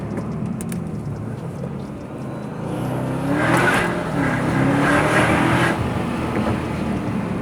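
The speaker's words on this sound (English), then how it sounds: "You get more engine noise than anything" A Mercedes car's engine rises in a building roar under acceleration, heard from inside the cabin, loud and steady with rising revs and a brief shift, no talking over it.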